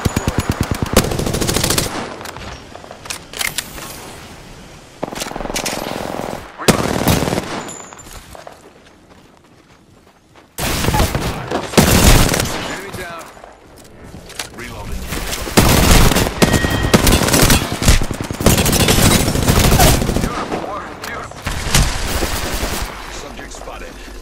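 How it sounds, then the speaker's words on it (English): Rapid automatic gunfire from a first-person shooter match in Apex Legends, with loud, dense bursts of firing broken by short pauses and a brief quiet gap, set against continuous in-game sound and some voice. "Shot fired, and they're hitting me."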